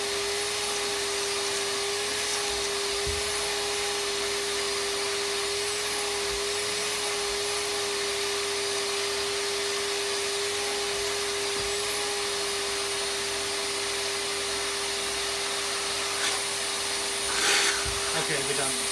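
A VAX Mach 8 upright vacuum cleaner runs with its hose just cleared, a loud steady motor whine and airflow roar holding for the whole stretch, with a voice briefly heard near the end.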